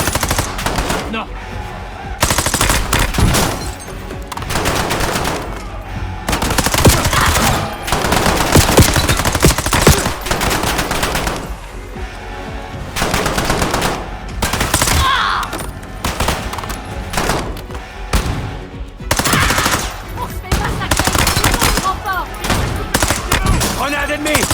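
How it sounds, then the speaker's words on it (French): Intense battlefield gunfire in a war action film, sustained machine-gun bursts and rapid shots crowding together loudly with barely a pause, while shouting voices break through the barrage. "C'est un ennemi! Je me fais tirer dessus!"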